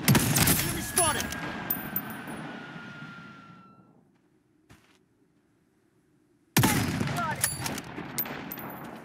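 Loud automatic gunfire bursts in the video game Blood Strike during a ranked match, fading out to near silence before another sharp volley erupts close by.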